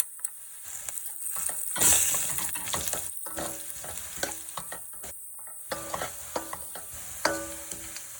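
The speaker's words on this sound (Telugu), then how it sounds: "1 స్పూన్ కారం, ఉప్పు, ధనియాల పొడి, గరం మసాలా, పసుపు వేసుకొని ఫ్రై చేసుకోవాలి ఆయిల్లో." Chili powder, salt, coriander powder, garam masala and turmeric fry in hot oil for a dhaba-style paneer masala curry, a continuous close sizzle broken by repeated scraping stirs of a spoon against the pan.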